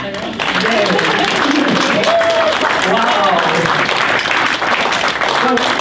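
An audience at a public meeting applauds in a dense, steady wash of clapping that lasts throughout, with voices calling out over it.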